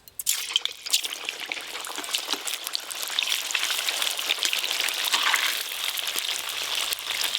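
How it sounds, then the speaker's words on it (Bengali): Steamed momos crackle and sizzle steadily as they fry in hot oil, a dense, continuous hiss that stays close and fairly loud throughout with no talking. "এবার স্টিম করা মোমোগুলো গরম তেলে ভালো করে ভেজে নেব"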